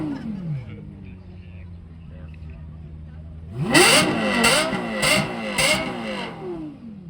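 A car engine idles low, then surges into several sharp, loud revs with rising and falling pitch, repeated bursts close by, at a car dealership open house event.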